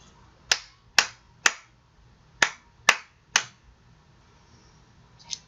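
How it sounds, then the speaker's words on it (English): Sharp hand claps beat out a rhythm during a music lesson: three evenly spaced claps, a pause, three more, then one faint clap, close and crisp with no talk. "Now we're going to clap it."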